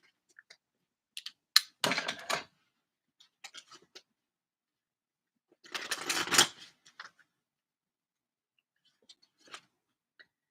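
Elemental oracle card deck being shuffled by hand, two brisk riffling bursts of papery card noise with light taps and clicks between them, close and fairly quiet with no talking.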